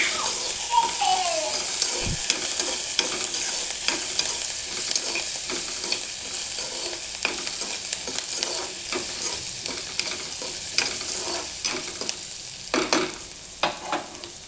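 Chopped onion sizzles and fries in a pan for a Maharashtrian home recipe while being stirred until browned, a steady close crackle broken by repeated scraping stirs, with no talk over it.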